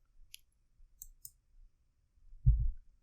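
A computer mouse clicks faintly a few times in a quiet room, short sharp ticks spaced apart, followed by a soft low thump near the end.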